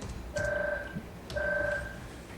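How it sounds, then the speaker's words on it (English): A telephone rings in two short electronic bursts with a pause between them, faint and heard over a quiet room background. "phone's ringing"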